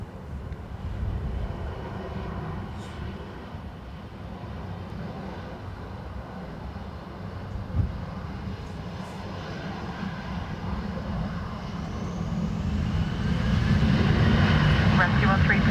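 A Ryanair jet takes off from runway 10 right at windy Dublin Airport, its engines a steady distant roar that builds noticeably louder toward the end.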